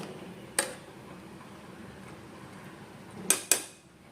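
A utensil clinks against a cooking pot while rice and green gram are mixed: one sharp clink, then two more close together near the end, quiet and close over soft background hiss.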